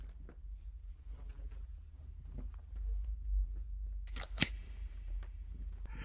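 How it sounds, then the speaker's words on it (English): Scissors snipping holes in cloth sheets inside the horror game The Space Between, a single sharp metallic snip standing out clearly over a low ambient drone, with faint scattered clicks before it. "The metallic sound was scissors cutting holes in the sheets"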